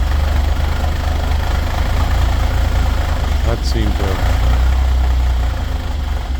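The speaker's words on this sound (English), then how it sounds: "he's going to do some adjusting on the engine here" The engine of a blue Bombardier snow vehicle idles in a shop after adjustment, a steady low rumble running throughout with brief talk over it.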